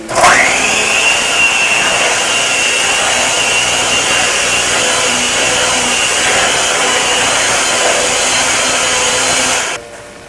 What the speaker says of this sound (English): And I am going to mix it with the mixer.